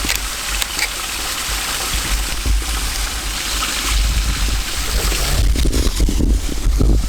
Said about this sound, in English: the waterfall and the water running down here